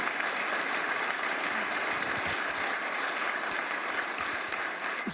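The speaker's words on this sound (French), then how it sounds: "On peut l'applaudir" A large audience at a French heritage event gives sustained, dense applause for Stéphane Bern, steady and even throughout with no pauses.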